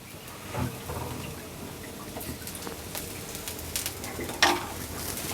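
Puffed rice and egg being fried and stirred in mustard oil: a soft, crackling sizzle with scattered light taps and scrapes, fairly quiet, with a brighter clack near the end.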